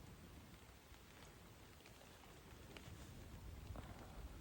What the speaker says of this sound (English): I'm just listening to the gentle drops of rain.